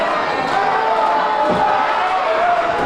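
A wrestling arena crowd at a charity show roars and cheers in a loud, continuous wash, with a brief surge of shouting midway.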